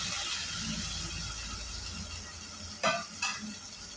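Broad bean pieces and tomato stirred in a pan, a steady soft sizzle running throughout with two brief metallic scrapes of the spoon near the end.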